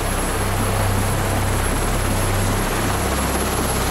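A military helicopter from the Joint Helicopter Command flies near a Navy ship, its rotor giving a loud, constant thrum and whine for the whole stretch. No one speaks.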